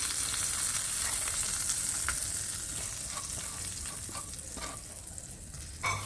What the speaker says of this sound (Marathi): आता या चटणीवरती मी हा तडका आपण तयार केलेला आहे तो घालून घ्यायचा आहे